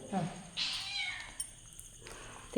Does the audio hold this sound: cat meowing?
yes